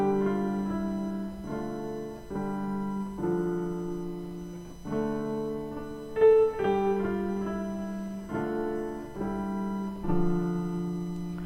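A piano plays a piece very softly: gentle, evenly paced notes and chords ring out and decay in a quiet, steady phrase, with no voices.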